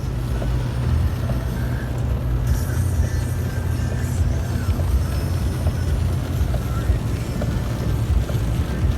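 Cars and a truck rush past on a snowy high-desert freeway, a steady loud low road roar with wind buffeting the microphone throughout and no distinct separate passes.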